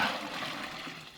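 Water pours into medaka fish containers during a water change, a brief, steady splashing hiss.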